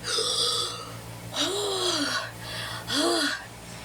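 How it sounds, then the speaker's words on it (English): Loud, ragged gasps for air come in two or three heaving pulls, close and breathy over a low background hum. "crashed in, and then the gasping for air"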